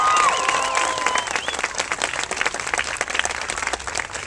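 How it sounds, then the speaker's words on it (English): Audience applause for First Lady Maria Shriver at the outdoor We Garden ceremony with Mayor Kevin Johnson: dense, steady clapping fills the whole stretch, close and loud, easing slightly toward the end. "Let's give a round of applause for the First Lady, Maria Shriver."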